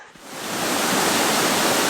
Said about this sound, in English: It actually is a really cool waterfall.